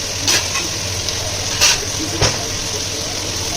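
Dal frying with onion and tomato in a pan gives a steady sizzle broken by a few sharp scraping stirs, close up and fairly loud, with no voices.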